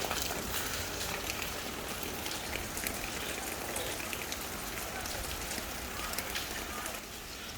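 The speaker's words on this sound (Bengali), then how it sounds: "এই বৃষ্টি কবে থামবে কেউ বলতে পারে না" Heavy monsoon rain pours down during a flood at a home, a dense, steady hiss of drops on surfaces and water filling the whole clip without pause, loud and close.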